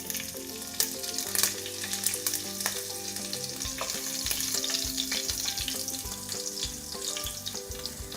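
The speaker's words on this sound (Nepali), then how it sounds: "ल अब तेल तात्यो। यसमा म फुराउँदैछु जिरा अनि खुर्सानी।" Cumin and chili crackle in hot oil for an eggplant and spinach curry, a dense continuous sizzle with scattered pops, steady and fairly close, under a background of tonal music.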